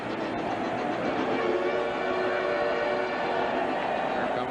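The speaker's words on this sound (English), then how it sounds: "Here comes the Pirate train roaring through the stadium." A train sound effect, the Pirate train, roars through the stadium at a 1990 National League Championship Series baseball game between the Pirates and Reds. It is a steady, loud rumble with a whistle-like tone running through it and no talk.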